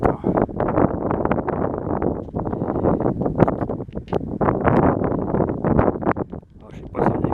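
Gusty wind buffets the microphone on an autumn hike in the Essonne countryside, loud rumbling bursts that surge and ease, with someone talking under it.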